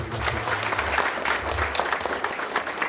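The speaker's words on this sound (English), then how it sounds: "Let's clap." A crowd at a university Lawyers' Day event claps steadily and continuously throughout, a dense patter of applause filling the whole stretch.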